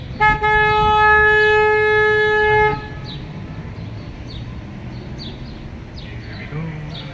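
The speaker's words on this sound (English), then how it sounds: "I'm going to honk my horn" A river cruise boat's horn gives a loud, sustained blast with steady harmonic tones lasting nearly three seconds, then cuts off, leaving engine rumble and faint chirps in the background, on the San Antonio Riverwalk.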